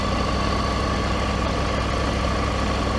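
The 888 cc engine of a Triumph Tiger 900GT motorcycle running with no throttle applied, giving a steady low hum and rumble that stays even throughout and carries no speech.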